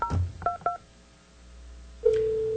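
Telephone keypad dialing during a governing board meeting, a few short DTMF beeps in quick succession, then a pause of low hum before a steady ringing or dial tone sets in, with no speech.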